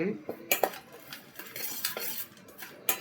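Puffed rice being stirred with masala in a pan for masala pori, a steady clatter of spoon against metal with sharp scraping knocks and a few louder clanks, close and with no talk.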